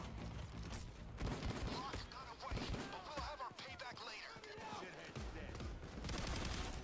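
Rapid enemy gunfire in Payday 2, a fast dense barrage of shots going on throughout, fairly faint in the mix, with people talking over it.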